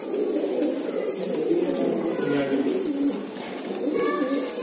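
Many Deobandi pigeons coo together nearby, a dense, continuous low murmuring with overlapping throaty calls.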